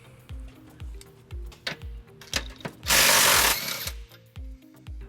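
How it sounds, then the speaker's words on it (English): A ratchet wrench with an 18mm socket cranks on a frame rail bolt under a 2011 Dodge Nitro, with rapid repeated clicks and thuds close by and a short loud burst of noise in the middle, with no talk. "we're going to remove this bolt on the bottom of the frame rail. We're going to use an 18mm socket."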